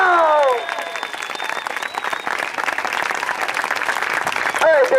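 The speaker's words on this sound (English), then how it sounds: "Can we have an applause for that?" Loud applause from an audience at a fife and drum muster, steady clapping and cheering sustained for about five seconds, with a brief shout and whistle near the start and end.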